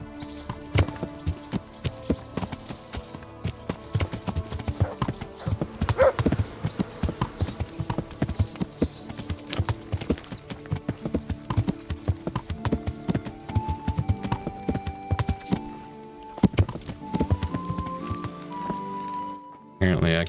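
Steady hoof clip-clops from a horse trotting along in Kingdom Come: Deliverance, with game music and occasional background sounds mixed in throughout.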